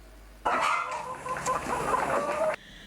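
Chickens on a poultry farm holding about 1,000 to 3,000 birds cluck together in a dense, continuous flock chorus that rises abruptly, stays steady for about two seconds, then cuts off.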